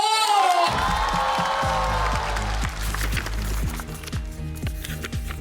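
A stand-up comedy audience bursts into loud cheering and applause for the night's champion, whoops rising over a dense, sustained wall of clapping that carries on throughout.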